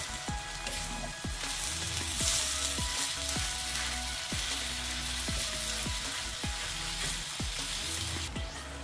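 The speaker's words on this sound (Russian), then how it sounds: "И сейчас продолжаю обжаривать до готовности фарша" Minced turkey seasoned with paprika, salt and pepper sizzles steadily in a pan over high heat, with regular scraping strokes of a utensil stirring the mince roughly every half second under the continuous hiss.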